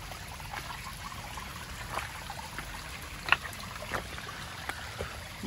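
Mountain stream water flowing steadily on a hillside trail, a soft continuous trickle and rush with a few brief knocks and clatters over it, no talk.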